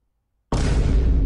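A grenade detonates in a video game, a single sudden boom that bursts out of silence and rolls off in a loud, heavy decay.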